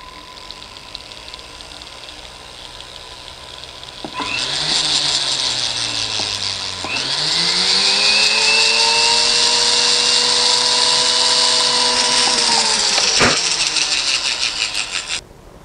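A small handheld rotary tool drills shallow holes in a diecast Caterpillar D11N model. The motor whines up in pitch, settles into a steady high buzz for several seconds, then cuts off sharply.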